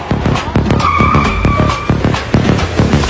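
A car brakes hard and skids to a stop, producing a loud, sustained tire squeal with pulsing grinding bursts over about three seconds.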